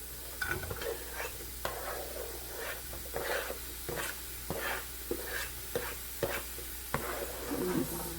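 Onion sizzles in a hot frying pan, with a constant hiss broken by a regular series of sharp scraping stirs, close and fairly loud.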